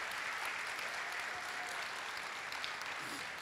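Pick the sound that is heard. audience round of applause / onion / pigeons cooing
audience round of applause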